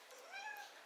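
A house cat trying to get out lets out a single short, rising-and-falling meow, close but fairly soft.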